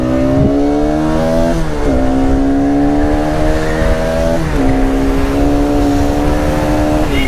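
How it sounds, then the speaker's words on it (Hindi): A Yamaha R15 V3 motorcycle engine revs loudly and close, holding a steady buzzing tone that dips and climbs again twice as it shifts through gears. "वो अभी भी उसकी बाइक बबल कर रही है।"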